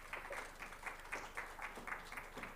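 Conference audience applause for an introduced speaker, a modest group clapping in an uneven pulsing rhythm, fairly faint and distant in the hall.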